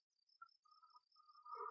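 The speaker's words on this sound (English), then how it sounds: "Listen to the beautiful crickets." Crickets chirp in the Kerbal Space Program game, a soft, steady ambient loop of repeated high insect trills with no talking, gradually growing a bit fuller toward the end.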